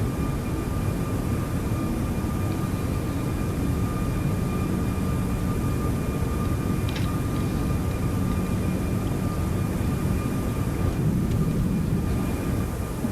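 A Toliss A340-600 airliner climbs after takeoff in the X-Plane 12 flight simulator, a steady broad jet-engine roar with a thin constant whine, moderately loud and unbroken, with no speech.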